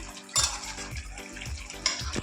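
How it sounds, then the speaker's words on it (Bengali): Mutton curry being stirred and sautéed in a pan, with spoon scrapes against the metal at a steady rhythm of about one stroke every half second over a soft sizzle, close and moderately loud. "মটনটাকে একটু কষাচ্ছি।"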